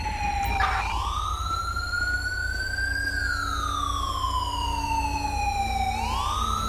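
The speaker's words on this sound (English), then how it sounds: "Ambulance." Ambulance siren in Grand Theft Auto 5, a loud continuous wail sweeping slowly up and down in pitch, close and unbroken over a low engine rumble.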